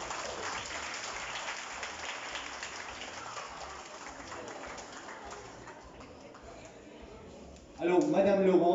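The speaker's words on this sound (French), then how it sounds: "Un grand applaudissement, s'il vous plaît" Applause at an award presentation in Mauritius for a women empowerment project, a moderate, steady patter of clapping from a gathered crowd that thins over several seconds before a louder burst of voices and sound at the end.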